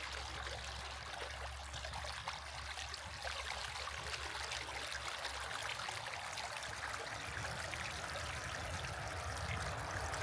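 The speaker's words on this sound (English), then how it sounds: "We got the water flowing. Little mini waterfalls" Water trickles and splashes steadily over small waterfalls in Hot Springs Village, Arkansas, a continuous, gentle burbling close by with no voices.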